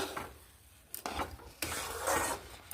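Palm fruit pulp being cooked down in a karahi for a Bengali palm pitha sweet, with faint, uneven scraping and rubbing strokes of a spatula over a quiet low simmer, heard close and without speech.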